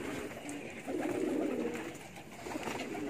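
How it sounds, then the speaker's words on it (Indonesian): Pet pigeons cooing in dim early-morning light, a low rolling coo rising in the middle then trailing off, close but quiet over faint background noise, no speech. "Sekarang kita santai dengan merpati kesayangan kita"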